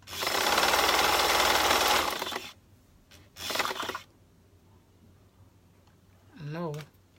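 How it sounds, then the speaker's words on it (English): A sewing machine stitching a maxi skirt runs in a loud close burst of rapid whirring for about two seconds, then a short second burst, followed by a brief spoken voice. "now you're going to place your bottom under the sewing machine, and now we're going to stitch"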